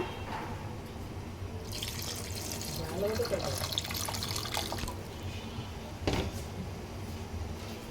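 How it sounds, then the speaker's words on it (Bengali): More water poured into a pot of chicken curry, a continuous splashing pour swelling in the middle and ending with a sharp clink of the vessel, heard close. "আর একটু পানি লাগবে"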